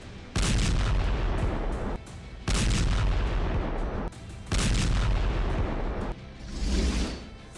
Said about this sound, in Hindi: एयर स्ट्राइक से फिर थर्राया लेबनान।